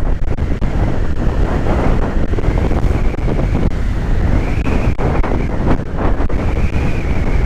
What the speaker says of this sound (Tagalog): Rinig niyo yung hangin,